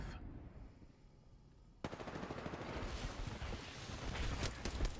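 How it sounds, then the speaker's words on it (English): Video game gunfire starts abruptly partway through as dense rapid automatic bursts, steady and fairly close, after a quieter stretch of low ambience. "Opening fire on the enemy."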